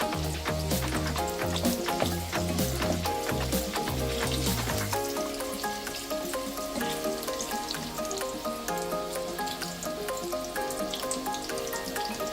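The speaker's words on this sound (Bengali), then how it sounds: "আলুগুলোকে একটু ভেজে নিচ্ছি।" Potatoes frying in hot oil in a wok, a steady crackling sizzle with bursts of popping and stirring early on, then a softer continuous hiss.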